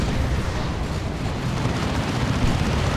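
A rocket run explosion in the Warhammer 40k game Dawn of War 2 during a 3v3 match: a loud, sustained rumbling blast with dense low boom and crackling debris filling the whole stretch, no talk over it.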